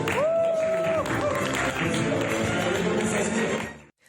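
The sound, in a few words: applause at a ceremony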